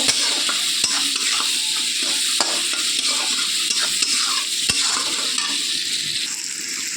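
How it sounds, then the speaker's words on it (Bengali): Prawns and crushed garlic fry together in a pan, a constant crackling sizzle punctuated by regular knocks and scrapes of a stirring spoon. "কিছুক্ষণ ভাজবো, ভেজে নিয়ে চিংড়ি মাছটা একটু ভাজার পরে থেতো করা রসুনটাকে দিয়ে দিয়েছি, দিয়ে এটাকে কষিয়ে নেব।"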